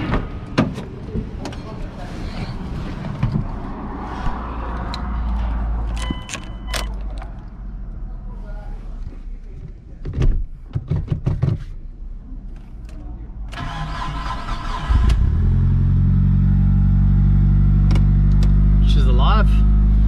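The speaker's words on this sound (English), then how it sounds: "Time to start it up and let's hear if there are any exhaust leaks or vacuum leaks" A Mitsubishi Evo 4G63T engine cranks and fires, then settles into a steady, loud idle for the last few seconds. Mechanical clicks and handling noises come first, with some talk mixed in.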